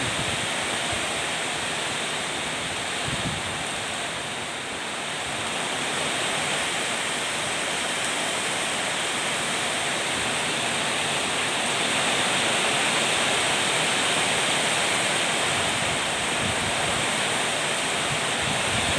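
Heavy rain pours steadily over a Muscat grape vineyard, a dense, continuous hiss that stays loud and even throughout with no voices.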